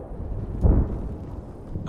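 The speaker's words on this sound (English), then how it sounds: "What is that fucking artillery? That's massive." Heavy artillery fire in a military video game, a single deep rumbling boom swelling midway through a low windy background, distant but powerful.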